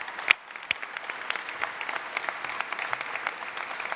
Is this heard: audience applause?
yes